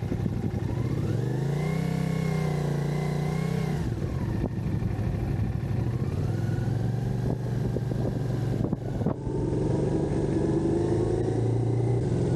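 A CFMOTO 450SS sport motorcycle pulls away and accelerates, its engine rising in pitch through a couple of gear changes, then settling into a steady drone, loud and close under wind rumble.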